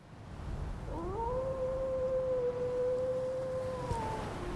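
A cat in the video game Foolish Mortals lets out a long, drawn-out meow with a rising then sustained, slightly falling tone, loud and clear over a steady background hum, with no talking.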